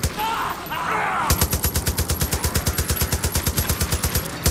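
Gunfire and explosions in the video game Far Cry 5 Dead Living Zombies, a rapid, steady burst of loud, evenly spaced shots following a short rumbling stretch.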